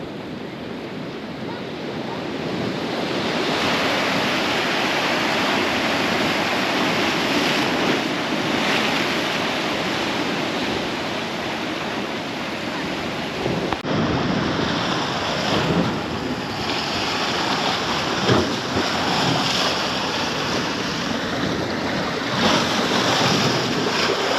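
Sea water surges into a rock pool on Madeira, a continuous loud rush of waves and churning water mixed with gusty wind buffeting the microphone.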